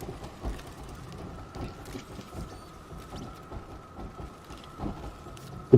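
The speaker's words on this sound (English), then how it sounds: "I hear the printer print." Repetitive mechanical ratcheting and clicking from a printer printing inside the video game Astroneer, a steady low-level churn with faint periodic thumps running throughout, no speech.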